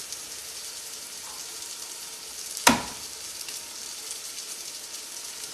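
A Cajun ribeye steak sizzles in a hot pan, a steady, fairly quiet frying hiss with one brief sharp spatter midway, no voices.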